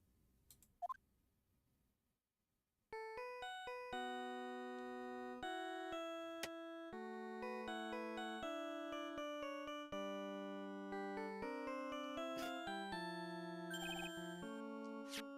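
Phone ringing in the Ace Attorney video game, heard as a bright electronic melodic tune that starts after a short quiet gap and carries on steadily with layered synth notes, no voices over it.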